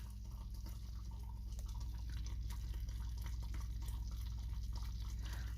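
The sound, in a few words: homemade mustard bubbling fast in saucepan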